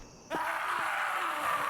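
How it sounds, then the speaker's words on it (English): A person screams inside the horror game Nightmare of Decay. A sustained, wailing moan cuts in abruptly and holds steady at moderate loudness over a low ambient drone. "And someone is screaming."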